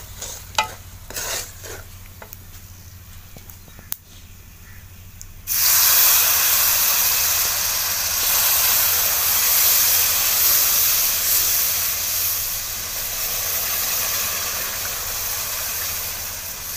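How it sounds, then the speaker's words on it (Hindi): Sugar syrup pours into frying semolina halwa in a village kitchen, setting off a sudden, loud, steady sizzle and steamy hiss that follows soft stirring scrapes and keeps going strongly to the end. "अब हम डाल लेते हैं चाशनी।"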